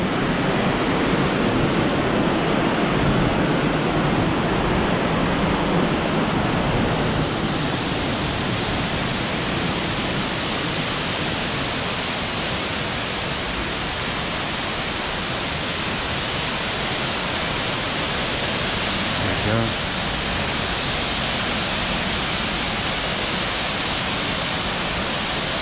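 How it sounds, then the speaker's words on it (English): Lower South Falls on the Trail of Ten Falls in Oregon pours as a steady, loud, broadband roar of falling water, close and unbroken throughout, with no voices over it. "this is the lower South Falls at the Trail of 10 Falls in Oregon"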